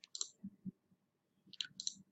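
Two mouse clicks in a quiet room, each a short double tick, spaced about a second and a half apart.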